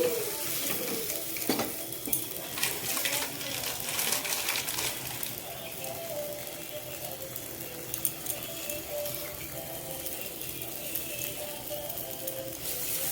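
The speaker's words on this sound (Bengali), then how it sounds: "তারপর এর উপর দিয়ে তেল দিয়ে এটাকে ভেজে নেব" Coriander leaf paratha frying in oil on a pan, a steady close sizzle with light crackles and occasional utensil clinks running throughout.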